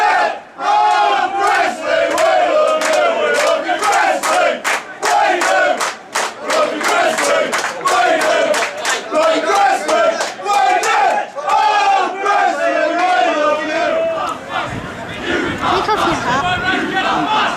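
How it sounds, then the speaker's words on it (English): Loud football crowd chanting in unison from behind the goal at a Leek Town v Gresley play-off, a steady roar of massed voices that holds for most of the stretch, then thins slightly near the end. "Look at the crowd behind the goal."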